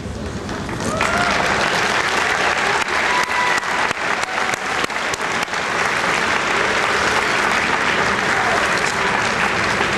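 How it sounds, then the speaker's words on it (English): A large crowd in a school gym at an honors assembly claps loudly and continuously, the dense roar swelling after the first second and holding for the rest of the stretch, with faint voices mixed underneath. "let's give all these individuals a round of applause"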